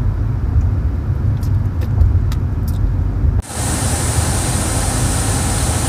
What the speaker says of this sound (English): it sure drives nice on the freeway though